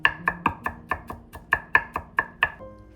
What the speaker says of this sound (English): finely mince 3 cloves of garlic